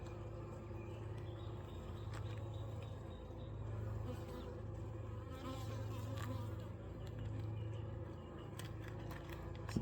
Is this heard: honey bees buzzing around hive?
yes